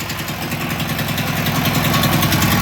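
An old, rattly generator engine idling for winter use: a loud, steady, close mechanical drone with a fast, even rattling pulse that stays constant throughout.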